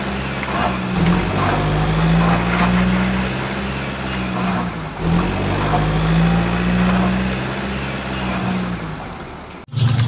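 A heavy diesel excavator engine idles and rumbles steadily with a low throbbing hum, rising slightly at times, ending with a brief clunk.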